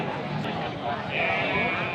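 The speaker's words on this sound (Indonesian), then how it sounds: "di depan saya ada bakalan domba diliput Pak" Sheep bleating at a livestock market in Singaparna, Tasikmalaya, a drawn-out bleat rising in the second half amid busy crowd noise and nearby voices talking.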